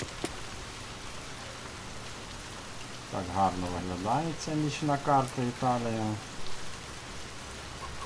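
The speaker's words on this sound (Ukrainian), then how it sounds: "Зараз звук доща з'явилися, вони з'являються, як ми сюди заходимо" Steady rain hisses throughout in a Counter-Strike 2 night map set in Italy, with a person talking over it for a few seconds in the middle.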